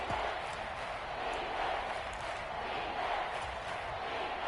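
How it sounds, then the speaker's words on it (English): A football stadium crowd roars steadily throughout, a dense, sustained wash of cheering with no break or clear peaks. "Crowd getting in it a bit already."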